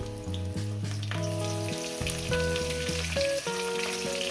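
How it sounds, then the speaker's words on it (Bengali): Pointed gourd (potol) fries with salt in a pan, a steady close sizzle running underneath louder melodic background music that plays throughout. "লবণটাকে দিয়ে আমি পটলটাকে সুন্দর করে ভেজে নেব"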